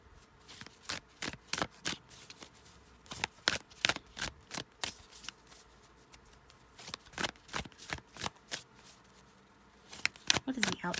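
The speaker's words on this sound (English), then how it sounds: "we're going to get one more card here. Here's another outcome card." Tarot cards are handled and drawn from a deck: rapid, crisp flicks and snaps close by, arriving in clustered bursts with short pauses between them.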